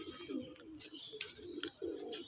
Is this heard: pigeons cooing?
yes